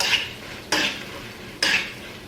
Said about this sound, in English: And move them around so that they can cook evenly. We move our salt, our shrimp around.